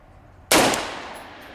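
A single sharp, loud gunshot from a gas gun fitted with a muzzle brake cracks out up close, followed by a brief ringing decay; no talk.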